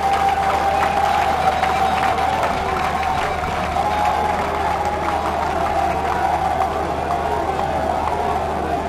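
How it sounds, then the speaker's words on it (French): Audience at a Congolese women's mutual finance inauguration applauding and cheering for the president, a dense steady wash of clapping and crowd noise throughout, with a faint voice underneath. "S'il vous plaît, applaudissez pour fort pour le président de la République"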